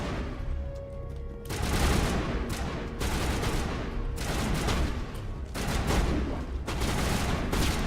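Dense, sustained gunfire from a Mass Effect battle rattles on nearly continuously in overlapping bursts, loud and close, with a few heavier booms mixed in.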